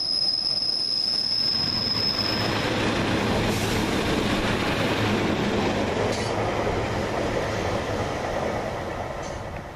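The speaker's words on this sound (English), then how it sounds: "1749 Northern Rail service from Leeds to Moston." A Northern Rail passenger train rolls past with loud, sustained high-pitched wheel squeal over a steady rumble, the screech strongest early and fading slightly toward the end.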